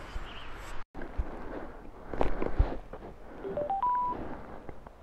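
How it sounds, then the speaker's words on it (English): A phone dials with a rising series of short DTMF tones before a call connects on a road trip for a wilderness camping weekend, heard over road and handling noise with a brief dropout near the start. "Phone connected."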